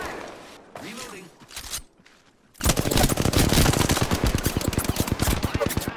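Automatic gunfire in the Apex Legends video game, a loud sustained rapid burst of shots starting abruptly after a quieter stretch of game sounds and brief activity.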